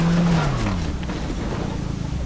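A car in the Fortnite video game driving uphill, its engine droning steadily with a falling pitch and some tire noise, fairly loud and without talk.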